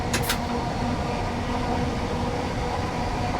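A long simulated train rolls past on the Dartford to Gillingham line in Train Sim World 3, a steady, close rumble of wheels and carriages that holds evenly throughout, with a brief hiss near the start.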